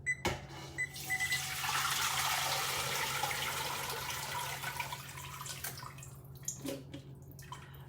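Two liters of water poured from a container over meat in a pot for homemade pho, a steady splashing pour that runs several seconds, then tapers off into a few drips and clinks.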